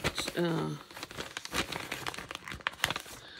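A small clear plastic pouch holding tape fragments crinkles in close, irregular bursts, with a voice speaking over it briefly at the start.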